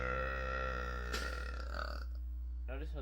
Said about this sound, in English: Notice how the screen shakes when I burp.